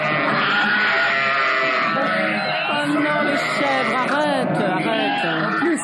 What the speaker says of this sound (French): c'est pas des chèvres, en plus. C'est des moutons